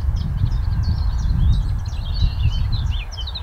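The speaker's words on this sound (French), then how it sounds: "Vous entendez le tituti, tituti?" A great tit sings its repeated two-note 'tituti' phrase among other birds in the trees, high chirps over a steady low rumble of outdoor background noise.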